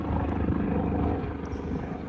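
A helicopter flies overhead near a sailboat race course, its low rotor throb and engine rumble steady and fairly loud throughout, with no talk.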